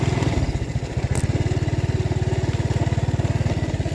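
A motorbike-like engine running near an orchard, a loud close rattling putter with a fast, even pulse, steady throughout with a brief higher click partway through.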